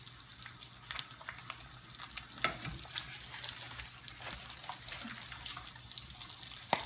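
Bacon frying in a pan, a steady broadband crackle and hiss with scattered sharper pops, close and moderately loud, no voices.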